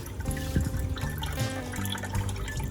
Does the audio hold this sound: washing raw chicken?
yes